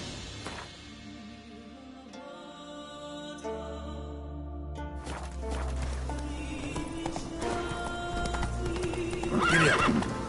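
Roach, a horse in The Witcher 3, neighs loudly and then gallops with rising, rhythmic hoofbeats that swell near the end, all close and without talking.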